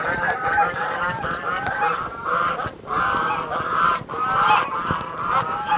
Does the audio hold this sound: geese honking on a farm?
yes